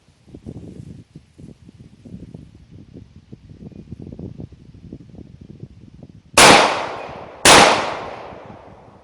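Two loud, sharp 9mm gunshots, Speer Gold Dot rounds fired into a car, ring out about a second apart after a stretch of quiet low rustling and handling noise.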